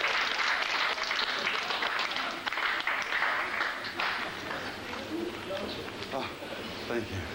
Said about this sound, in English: I think she just clapped